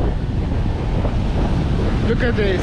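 Strong wind buffets the microphone in a constant roar on the east coast of Tasmania, with a voice speaking briefly over it near the end.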